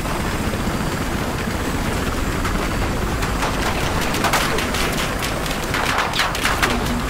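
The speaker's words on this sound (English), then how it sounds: "Their chopper is up." Continuous rattling automatic gunfire and bursts in a Battlefield Hardline match on the Dust Bowl map, dense and loud throughout with a low rotor-like rumble underneath from an enemy helicopter.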